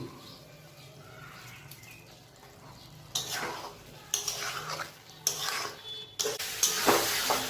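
Boiled potatoes for dum aloo stir-fried in a pan: after a quiet start, several loud scraping bursts of a spatula against the pan arrive in quick succession, each with a brief sizzle, close up and without speech.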